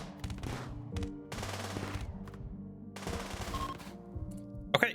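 Gunfire from pawns shooting during a raid in the video game RimWorld comes in several rapid bursts separated by short pauses, crisp and fairly close, with a sharp final crack at the end.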